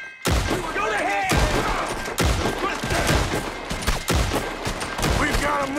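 Repeated pistol gunfire in the video game Red Dead Redemption 2 comes as loud, punchy shots in rapid bursts over a busy game mix of voices and action noise.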